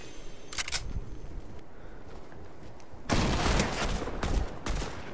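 AK assault rifle fire in Fortnite Battle Royale, Season 5: a short burst early, then a louder, denser stretch of rapid shots over the last two seconds, with background game sounds and no talk.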